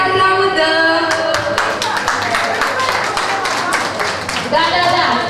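Guests clap at a baptism party in Târgu Jiu, a dense patter of applause running through the whole stretch over music and voices.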